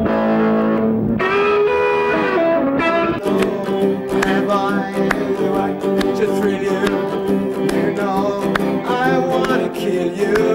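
An electric guitar plays through a Vox AC30 amplifier with mild, slightly crunchy distortion. It rings out as sustained chords and notes, loud, close and steady, with no talk.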